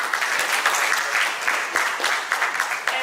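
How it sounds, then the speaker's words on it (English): Audience applause at the close of a conference, a dense, steady wash of many hands clapping that carries on without a break for the whole stretch. "we will give a big clap of hands to all of us"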